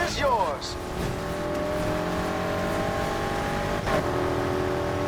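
Muscle car engine in Need For Speed Heat, a steady loud drone with rising and falling rev sweeps, a brief tire squeal near the start and another near the end, with a voice talking over it.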